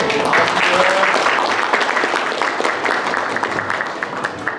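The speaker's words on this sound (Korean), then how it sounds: "호명되는 내빈들에게 힘찬 환영의 박수 부탁드립니다." Loud welcoming applause from a seminar audience greeting the Gwacheon mayor at a senior welfare centre's anniversary event, a dense steady clapping that slowly tapers over several seconds.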